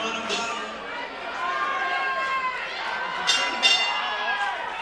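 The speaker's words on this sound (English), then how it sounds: "And the crowd love it." A boxing crowd at an Australian title fight cheers and chatters in a steady, dense roar, with brief louder swells of cheering and clapping near the end.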